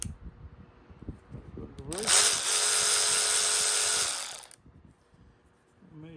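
Craftsman 20-volt cordless 3/8-inch drive tool with a brushed motor running in reverse, one loud whirring burst of about two and a half seconds between quieter handling sounds and faint talk.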